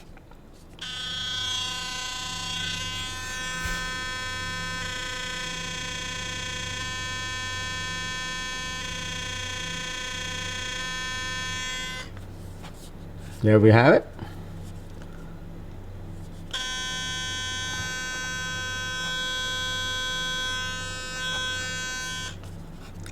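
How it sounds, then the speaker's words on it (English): A Philips Sonicare electric toothbrush runs with a steady, close, high-pitched buzzing hum in two long stretches, broken by a brief rattling handling noise in the pause between them; a person speaks briefly. "I feel like the noise level is the same as my older toothbrush"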